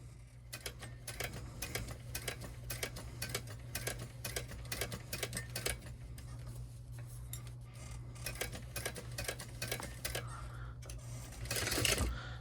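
A sewing machine runs at a moderate speed setting as it stitches along an existing seam in fabric, with a steady motor hum and rapid ticking needle strokes that pause and resume for backstitching, closing with a louder burst.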